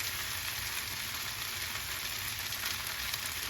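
Sesame oil sizzling in a pan while cooking pork fried rice, a steady close frying hiss without pause, with no voices.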